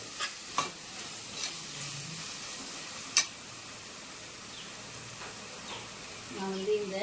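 Tomato rice masala with chilli powder is stirred in a pan, giving a quiet, steady sizzle with a few sharp scraping strokes of the spoon scattered throughout.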